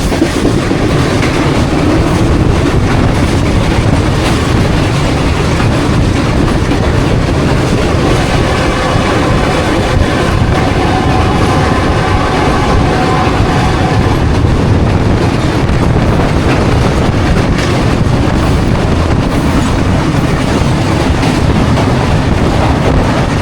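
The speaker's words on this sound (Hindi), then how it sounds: "दरियाए सतलज इम्प्रेस ब्रिज से पास होने लगी है हमारी 33 या पाक बिजनेस" Pak Business Express train crossing the Empress Bridge over the Sutlej River, a loud, steady rumble of wheels and carriages with rhythmic clickety-clack and wind buffeting throughout, no voices.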